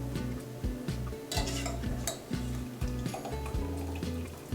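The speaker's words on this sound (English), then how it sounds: "I just drain it right here with my spoon with the holes and just pop it right in" Boiled escarole is drained with a slotted spoon over a soup pot, making clinks and scrapes of metal against cookware with light watery drips, repeated in a loose rhythm over a low steady hum.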